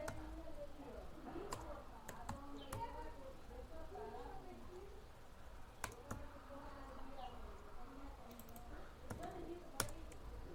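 A password is typed on a computer keyboard: scattered sharp key clicks come in small clusters under a man's continuous speech, quiet and close.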